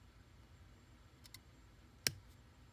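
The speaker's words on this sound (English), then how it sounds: "I snip that there, snip that there" A single crisp snip of plastic model kit parts being cut off the sprue of an SD Gundam Unicorn Banshee Norn, one sharp close click against a quiet background, with a couple of fainter ticks just before it.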